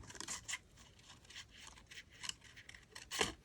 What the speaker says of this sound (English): I can't cut it perfectly round with my scissors